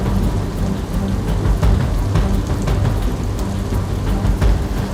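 Heavy flood rain pours steadily in Hansot, Bharuch, Gujarat, a dense, loud, continuous roar of water with low rumbling thunder underneath and no voices.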